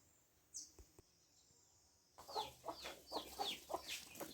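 Chickens cluck and squawk in a busy, rapid series after a quiet start with a few faint knocks, fairly close and steady.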